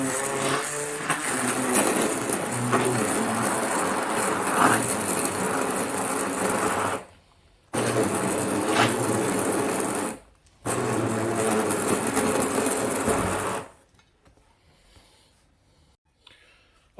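A kitchen blender whirs loudly and steadily, blending gazpacho vegetables with olive oil in bursts that stop briefly twice, then cut off near the end.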